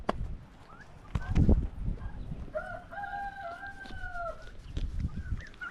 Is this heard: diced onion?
no